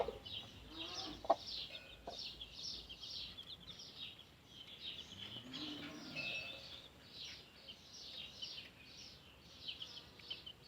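Chickens cluck softly and repeatedly in a quiet setting, a rhythmic series of short calls at moderate distance with a few clicks and rustles.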